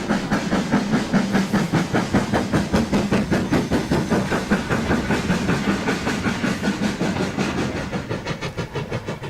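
An LMS Black 5 steam locomotive with Stevenson link motion works hard on the Keighley and Worth Valley Railway, its loud, rapid, evenly spaced exhaust beats barking continuously with steam hiss throughout.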